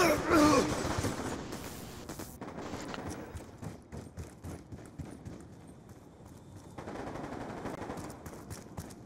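Rapid bursts of gunfire from a video game raid, with clattering shots early on and repeated popping later, fairly loud alongside game noise.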